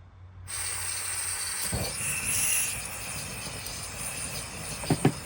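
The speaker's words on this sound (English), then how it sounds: "that stove is fired up" A propane camp stove burner hissing steadily after lighting, a constant airy rush close by with a couple of brief clicks and knocks near the end.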